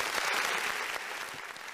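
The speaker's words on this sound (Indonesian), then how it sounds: "Tepuk tangan untuk tim Eko Floresta." A brief burst of dense applause from a crowd at an ideathon team presentation, steady and fairly loud throughout.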